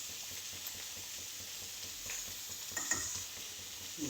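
Chicken coated in salt, red chilli powder, coriander powder and chicken masala is stirred in a pan, making a faint, even frying hiss with soft scraping strokes throughout and no speech.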